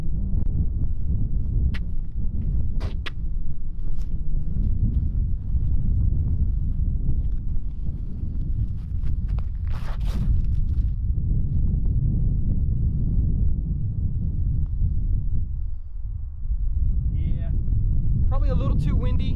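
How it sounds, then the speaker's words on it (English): Wind buffets the microphone outdoors on a course during a doubles round, a constant heavy low rumble lasting throughout with only brief dips, no voices clearly heard over it. "A little too windy."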